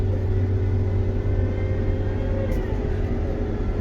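A John Deere tractor pulls back onto a highway, a steady low engine rumble and whir holding at even loudness throughout, close by with no talk.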